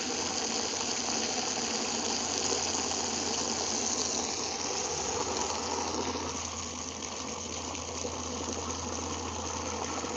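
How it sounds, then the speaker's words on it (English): Water pours steadily into a bucket that fills a livestock water trough, making a dense, constant rushing gush that carries on close by for about ten seconds with a low hum underneath. "This is water going into the water bucket"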